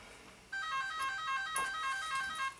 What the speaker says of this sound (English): the door is ringing